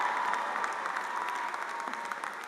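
University commencement crowd applauding an honorary doctorate recipient, a dense, sustained roar of many hands clapping from a large audience, even and continuous with no voices on top.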